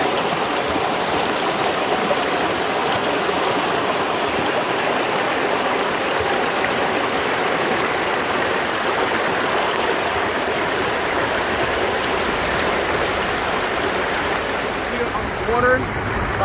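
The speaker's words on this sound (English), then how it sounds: "Love the sound of the water." A mountain stream near Mount Washington, New Hampshire, rushes steadily for the whole stretch, a dense close wash of flowing water with a voice faintly underneath.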